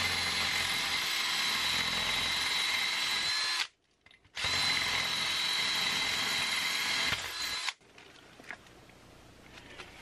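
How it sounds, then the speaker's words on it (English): A power drill bores a hole through a block wall to run solar wiring into a house: two long, steady high-pitched grinding runs split by a short pause, then a quieter rattling tail as the drill stops. "I'm hoping I can just use the first drill bit as a pilot, and then the other drill bit will find us here."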